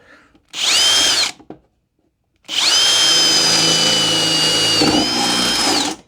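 A power drill with a drill bit whines loudly in two bursts while drilling a hole, a short one followed by a pause and then a long sustained run with a slight pitch dip near the end.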